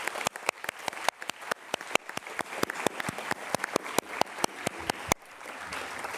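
An audience applauds at the EC2U university alliance kick-off event with close, sharp, fairly regular claps that run for several seconds before easing into softer room noise.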